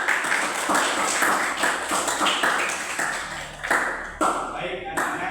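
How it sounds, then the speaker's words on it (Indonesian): Students applauding in a classroom during a coding lesson, clapping in a fairly steady rhythm with voices mixed in, loud and close, tapering off toward the end. "tepuk tangan untuk kita semua"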